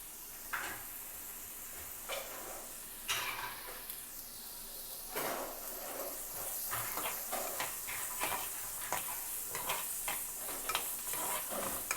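An onion mixture with turmeric sautéing in a pan for egg kurma, a quiet continuous sizzle broken by repeated scraping and stirring strokes of a spatula, which grow busier toward the end.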